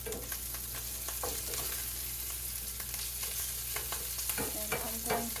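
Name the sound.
stirring food in a frying pan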